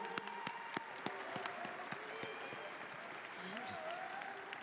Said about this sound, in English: Let's have a round of applause for Emmanuel the Witch Dr. Dawa as he leaves